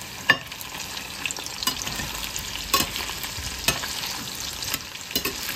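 Food sizzles steadily in a small frying pan that may be scorching, while a utensil scrapes and clinks against the metal in irregular strokes, close and alone without voices.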